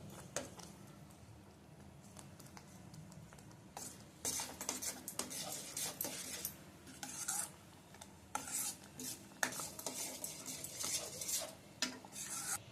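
A spoon scrapes and clinks against a pot as amaranth greens kootu is stirred before boiling, soft rasping strokes repeating steadily over a faint background hum.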